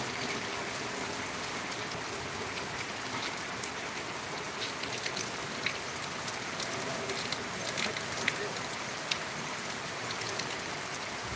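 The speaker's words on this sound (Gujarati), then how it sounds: "ચાલુ જ છે વરસાદ" Steady rain pours down continuously, a dense hiss with scattered drops pattering on surfaces, no voices.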